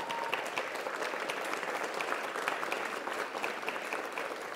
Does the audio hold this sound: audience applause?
yes